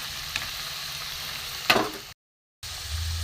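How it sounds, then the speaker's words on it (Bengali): Malai chop pitha fry in hot oil in a home kitchen, giving a steady close hiss and sizzle with one brief louder burst partway through. After a short silent gap the frying sound returns. "এগুলো লাল করে ভেজে নেব।"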